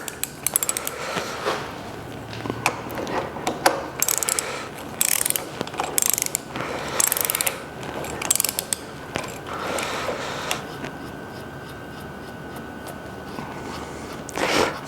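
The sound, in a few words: torque wrench ratcheting while tightening Lister CS engine bolts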